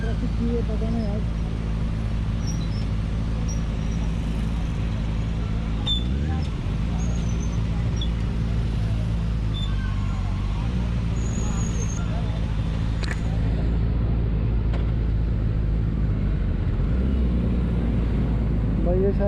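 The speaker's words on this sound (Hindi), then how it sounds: "इतना ट्रैफिक क्यों है पता नहीं यार।" Heavy road traffic near a park in India on a Sunday creates a steady, loud low rumble of engines and tyres, with occasional horn chirps over the din, and someone talks over it.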